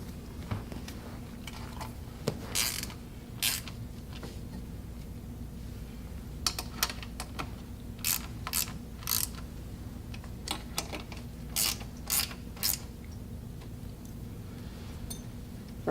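Nuts tightened onto a recliner chair's metal mechanism with a hand tool, scattered sharp clicks and ratcheting ticks in irregular bursts over a low steady hum.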